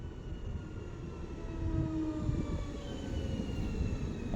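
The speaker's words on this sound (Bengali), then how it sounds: "এই যে আমাদের ট্রেন" A train rolls into a station in Malmö, Sweden, a continuous low rumble of wheels and carriages with faint squealing tones as it slows, moderately loud and steady.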